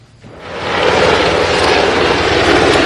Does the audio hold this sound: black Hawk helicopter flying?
yes